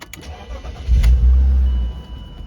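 A 2000 BMW Z3 M Roadster engine cranks briefly and fires up with a loud, close low rumble that settles toward idle.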